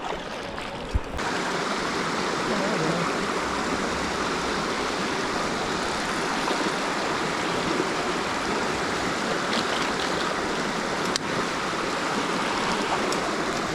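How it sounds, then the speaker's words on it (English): A brook stream in a national forest flows steadily, with a loud, even rushing and splashing of water that holds without a break throughout, close by and heard alone. "There's a brook, finally."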